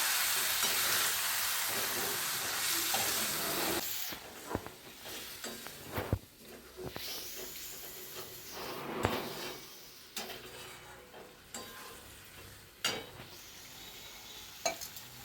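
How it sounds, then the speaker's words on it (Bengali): A spoon stirs snail curry with added water in a sizzling frying pan, with steady frying hiss and repeated scraping strokes and clinks against the pan, close and moderately loud. "একটু জল দিই, দিয়ে একটু নেড়ে চেড়ে"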